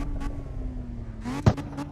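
A V12 car engine in the CarX Street racing game idles with a steady low hum, then gives a short sharp rev burst near the end, heard alone without talk.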